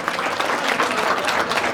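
A crowd at a devotional festival for Jargaji Maharaj claps loudly for an honoured guest: dense, steady applause throughout, close and without a break.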